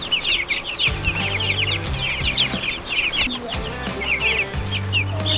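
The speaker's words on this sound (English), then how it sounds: "I think these chicks are about 3 or 4 weeks" Young chickens about three or four weeks old cluck and chirp busily in a brooder, a continuous chatter of many overlapping calls close by, with a low hum running underneath.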